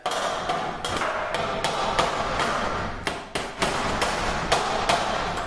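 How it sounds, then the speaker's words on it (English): A hammer taps a metal garage door arm bracket in a quick series of sharp, bright strikes, fairly close, with an irregular rhythm and no talking. "Take your hammer and just tap"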